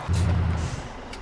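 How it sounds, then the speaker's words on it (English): In Farming Simulator 17, a low, heavy truck air-brake hiss and rumble bursts in, holds for about half a second, then fades into a quieter engine drone. "Oh, that potato truck again."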